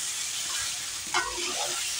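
Malabar spinach (pui shak) cooking in a pan, a steady soft sizzle with one brief stir rustle, heard close and without talk.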